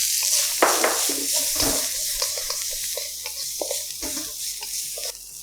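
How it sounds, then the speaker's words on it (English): Coriander and corn sizzling steadily in hot oil in a pan for a Indian-style vegetable sizzler, with a continuous bright hiss broken by occasional stirring clatter, close up and without speech. "The oil is hot. We're going to add in a little bit of coriander to this, along with some corn."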